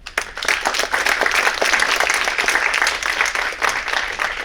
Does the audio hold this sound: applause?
yes